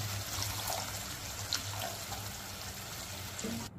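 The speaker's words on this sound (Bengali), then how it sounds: "যতটুকু গ্রেভি আমি রাখবো সেই মতো জল অ্যাড করছি।" Water pours into a paneer masala gravy cooking on a stove, a steady close trickling and splashing wash that runs for a few seconds before stopping abruptly.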